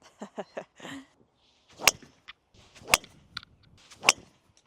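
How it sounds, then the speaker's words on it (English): Three sharp, loud cracks of a golf driver striking balls during warm-up drives with a Cobra DS Adapt driver, spaced about a second apart, with brief low voices murmuring before the first strike. "Start off by hitting 5 to 10 drives for me."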